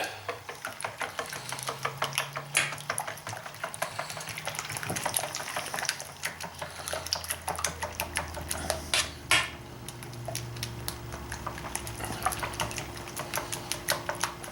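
Separated egg yolks being beaten in a bowl for a hide-braining paste make a steady, fast, rhythmic clicking and sloshing that runs without pause, close and fairly loud, with no voices.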